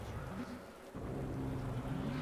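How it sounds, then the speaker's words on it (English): Rain in a racing video game during qualifying at Zolder: a soft, continuous hiss of falling rain with a low engine-like drone beneath it, steady and fairly quiet throughout. "And there we go. We have rain, at least in qualifying."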